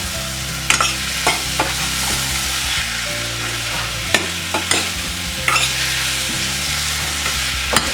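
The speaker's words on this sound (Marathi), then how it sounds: "जो मसाला आहे त्यात चांगला फ्राय करून घेऊया कांदा टोमॅटोमध्ये." Potato pieces frying and being stirred in an onion-tomato masala for vaal usal, a steady loud sizzle with scraping spoon strokes clacking against the pan every second or so.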